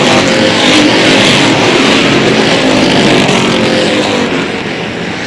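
Stock cars racing around a short oval track, led by the 18 and 11 cars a dozen laps in: a loud, continuous engine roar fills the whole stretch, close and unbroken, fading only slightly at the end.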